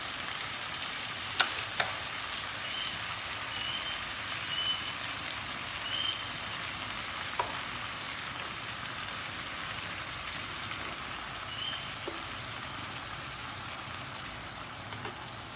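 Liver fries steadily in a pan after vinegar is added, a dense, even sizzle and crackle running throughout with occasional sharper pops standing out.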